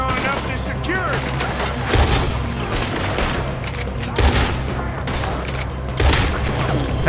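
Gunfire in the Red Dead Redemption 2 game crackles in a loud, dense fusillade with heavier booming shots at intervals, under game voices and a busy mix throughout.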